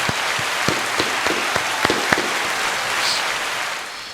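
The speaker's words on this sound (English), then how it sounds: "can we give a round of applause?" A small group gives a short round of applause, a handful of distinct sharp claps standing out over a light patter that fades away after about two seconds.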